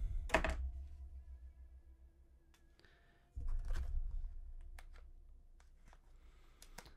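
Pokémon card pack packaging being torn open, with two loud crinkling bursts of plastic and scattered small clicks and rustles in between, close and otherwise quiet.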